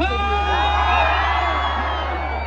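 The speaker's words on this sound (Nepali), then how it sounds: "एकचोटी पल्साको सम्मानमा हल्ला चाहियो" A concert crowd in Kohalpur cheers and whoops loudly and continuously, with high yells and whistles above a dense roar and a low hum underneath.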